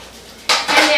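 Metal cake pans clatter in a kitchen, first with one sharp clank and then with a second burst of ringing metallic rattling close by.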